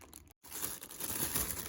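Plastic bag crinkling close up during an unboxing of Goomba and Boo toys, a continuous rustle broken by one brief pause and then resuming, heard alone without talk.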